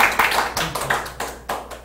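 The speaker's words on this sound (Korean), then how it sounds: "1학년 박수." Audience clapping for a first-year student, with a few uneven, close claps spaced out in a loose rhythm over a quiet room.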